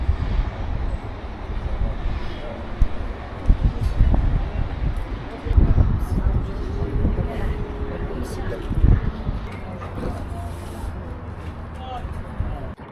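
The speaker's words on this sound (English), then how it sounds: "Fucking wind, mate." Gusting wind buffets a handheld microphone outdoors in Tangier, Morocco, a loud low rumbling roar that surges and dips across the whole stretch while people talk over it.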